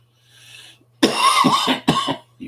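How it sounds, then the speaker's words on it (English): A short burst of harsh coughing, close and loud, two or three rough coughs in quick succession after a faint breathy sound. "Here comes a coughing."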